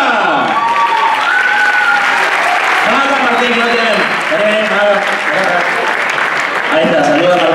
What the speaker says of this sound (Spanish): Un muy fuerte aplauso para el más chiquito del grupo